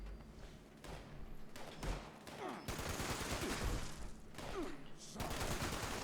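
An exploding .50 cal machine gun fires in Fallout 76, delivering rapid bursts of heavy gunfire and blasts in several long volleys, with a brief pause between, fairly quiet overall.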